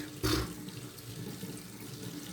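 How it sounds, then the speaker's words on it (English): Cold water from a sink tap runs briefly for a rinse, a short loud gush followed by a steady low trickle and room noise. "All right, cold water rinse."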